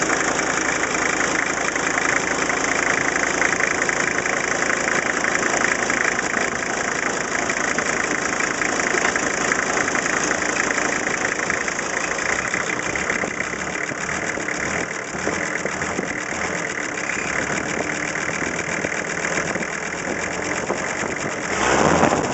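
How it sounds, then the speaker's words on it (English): An old-style diesel engine with no glow plug idles steadily and loudly throughout, a continuous rumble with light knocking texture and no talk. "Obviously, this is an old-style diesel."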